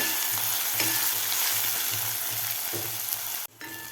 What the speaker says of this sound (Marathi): टोमॅटोसुद्धा आपल्याला व्यवस्थित सॉफ्ट होईपर्यंत परतून घ्यायचं आहे